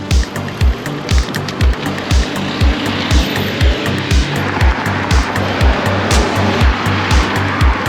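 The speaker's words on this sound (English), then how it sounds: "I'm still on kind of a main road, so there's constantly cars passing me." Traffic noise heard while cycling on a main road, with a steady roar of passing cars, a regular thumping rhythm and wind rushing close by.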